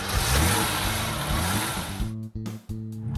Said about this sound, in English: Compact car.